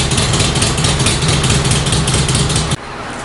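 A Harley-Davidson Panhead motorcycle engine idles loudly and close after a cold start, a steady rumbling, pulsing lope that cuts off sharply near the end.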